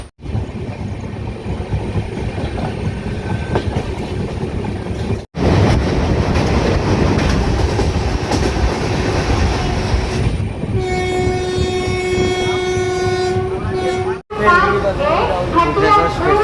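Inside the carriage of a passenger train travelling across Odisha toward Puri, a steady rumble and clatter runs under someone speaking, with a long horn blast toward the end.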